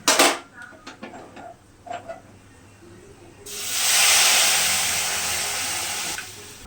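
A few light clicks and taps come first, then a bay leaf drops into hot oil with fennel seeds for tempering dal and sets off a loud, close hissing sizzle that holds for about three seconds before cutting off.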